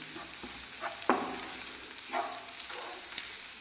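Garlic sizzles steadily in hot oil in a pan for a soya chunks dish, with a few sharp scraping stirs of a spatula standing out over the constant frying hiss; no one speaks.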